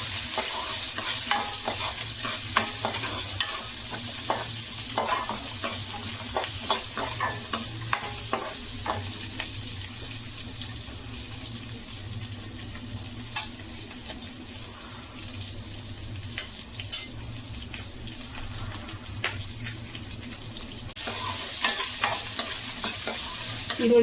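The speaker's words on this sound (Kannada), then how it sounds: "ಎಲ್ಲ ಹುರ್ಕೊಳ್ಳೋಣ ಸ್ವಲ್ಪ." Chopped onions fry in a pan for brinjal gravy, giving a continuous soft sizzle with repeated light scrapes and taps from stirring. The sound is close and moderate, with no talking.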